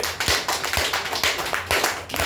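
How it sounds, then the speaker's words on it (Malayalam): Audience clapping at a Malayalam gathering, a brief burst of applause with sharp irregular hand claps throughout, fairly loud and close with no talk over it. "നല്ലൊരു കയ്യടി അങ്ങനെ അടിച്ചേ"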